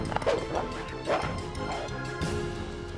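A cartoon dog barking and yelping amid a crashing impact, with a short whimper, busy and mid-loud over a noisy cartoon soundtrack.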